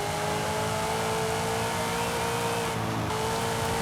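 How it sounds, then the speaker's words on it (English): Racing car engine in Forza Horizon 5 on the Playa Azul street circuit holds a steady, loud mid-pitched drone with the throttle feathered, and a brief dip near three seconds before the revs settle back in. "you can hear me feathering / modulating the throttle"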